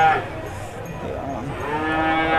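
Cattle mooing at the Rogojampi livestock market in Banyuwangi, a loud, close, drawn-out moo that carries on across the whole stretch over faint market background.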